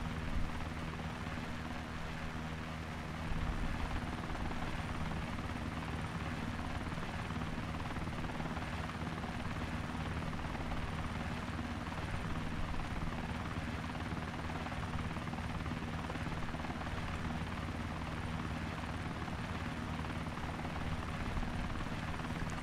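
MV-22 Osprey tiltrotor flying in a video game, a loud continuous rotor and engine drone with steady hum, unchanging throughout and with no talk.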